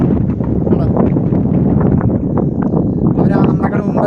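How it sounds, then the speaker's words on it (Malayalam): Strong cold wind on a forest trek rumbles and buffets the microphone continuously and loudly for the whole stretch, with no clear talk over it. "ഇപ്പം നല്ല സൂപ്പർ തണുത്ത കാറ്റ്"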